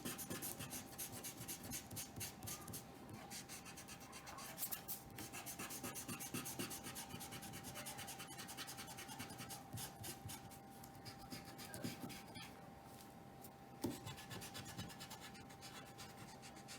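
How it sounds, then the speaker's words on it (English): Pencil lines being erased from paper for a pop-art project, a continuous close scratchy rubbing with rapid back-and-forth strokes, steady and moderately quiet throughout with no talking. "I'm going to erase my pencil lines first because there's a lot of pencil lines"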